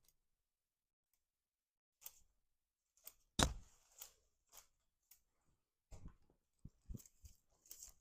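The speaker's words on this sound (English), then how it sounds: "I literally grab handfuls of it and cut it bare." Shears snip through ficus foliage in a quiet, sparse series of sharp clicks and crunchy cuts, some spaced a second apart and others in quick pairs, close and otherwise silent.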